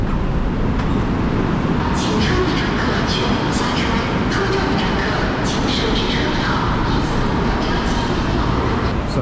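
A Shanghai Metro Line 11 train pulls into Huaqiao station with a loud, steady rumble of wheels and carriage noise, broken by squeals and clanks, with faint talk underneath.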